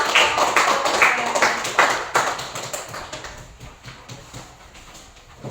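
A classroom group applauds, starting as a rhythmic burst of loud, close claps that loosen into scattered, fading claps over several seconds, with no talking.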